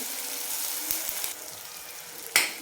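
Fenugreek leaves fry with salt in a pan, a steady soft sizzle broken by a few light spatula scrapes and one sharper clack near the end, with no talking.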